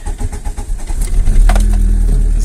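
A Volkswagen Passat B3 cranks over briefly, then catches and settles into a steady, close, loud engine idle.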